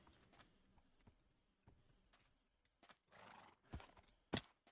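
A faint Minecraft horse whinny rises near the end, preceded by soft, sparse hoof clip-clops in a quiet setting.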